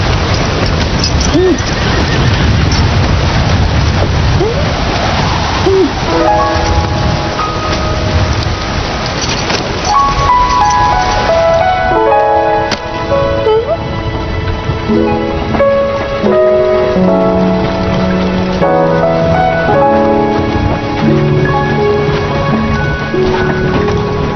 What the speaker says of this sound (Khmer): ភ្លៀងខ្លាំងណាស់